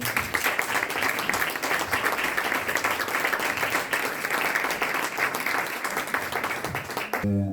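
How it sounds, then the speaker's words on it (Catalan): Loud, dense applause from a concert audience at an event marking fifteen years of an intergenerational brigade commemoration in Catalonia, sustained steadily for several seconds before cutting off at the end. "Fort l'aplaudiment, sisplau."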